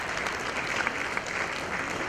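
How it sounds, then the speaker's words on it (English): Steady audience applause fills the room for the sponsors, a dense, even wash of many hands clapping at close range without pause. "Big round of applause to the sponsors of Fiki Frames."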